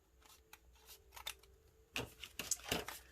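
Scissors trim a sheet of 12 x 12 scrapbook paper in faint snips and light rustles at first, then a denser cluster of crisp cuts close by toward the end.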